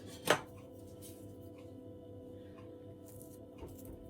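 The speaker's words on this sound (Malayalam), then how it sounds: "ഞാനിത് 2ആയിട്ട് മുറിച്ചിട്ടാണ് ചെയ്യാൻ പോകുന്നത്" A knife cuts a ripe plantain in half on a board for pan frying, one sharp chopping knock near the start and then a low, quiet kitchen background.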